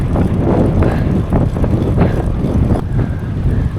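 Loud, gusty wind buffets the microphone on an open lakeside road beside Lake Flanagan while road biking, a steady low roar with surging gusts.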